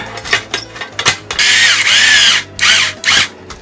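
An electric screwdriver drives screws into the circuit board of a junk stereo system (CD won't read) during repair, several short whirring bursts with brief pauses, close and fairly loud.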